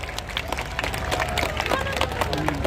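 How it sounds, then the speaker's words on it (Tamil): Audience applause for a motivational speaker from Kovilpatti at a Tamil pattimandram debate show, dense rapid clapping from a crowd with babble mixed in, sustained and fairly loud throughout. "கோயில்பட்டியை சேர்ந்த அண்ணா பாரதி அவர்களுக்கு ஒரு கரகோஷம்"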